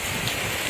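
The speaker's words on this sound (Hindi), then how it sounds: "और बारिश देखो खतरनाक बारिश" Heavy rain pours down outdoors under a mix of sun and clouds, a loud, dense, steady hiss of drops with no voices.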